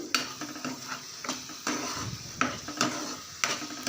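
A spoon stirs oily chicken liver gravy in a pot, with a soft scraping swirl and several sharp clinks of utensil against metal spaced through the stir, close and alone.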